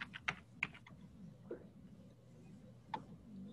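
Sparse keystrokes on a computer keyboard, a few sharp taps in an irregular rhythm with pauses between, close and moderately quiet against a faint room hum.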